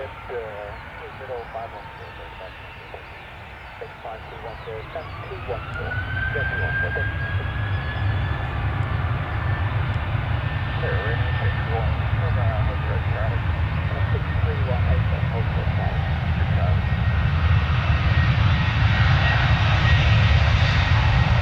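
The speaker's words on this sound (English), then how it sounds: "Okay, now this is definitely the final takeoff today." A propeller plane takes off at London Stansted Airport, its engine rising from a low idle into a loud, sustained climbing drone that swells over about twenty seconds.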